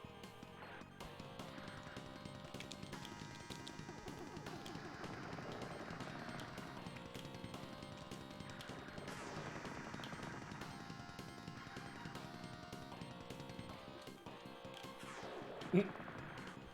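Rapid weapon fire from a laser cannon in the SNES shooter Strike Gunner S.T.G., a dense continuous barrage of blasts and explosions mixed with game music, with players talking over it.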